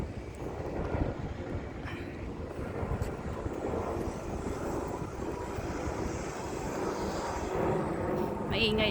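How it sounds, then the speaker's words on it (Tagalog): A low, steady roar of an airplane passing overhead, heard outdoors near a bus stop and mall, fairly faint and continuous with broadband rumble throughout. "Maingay ang eroplano."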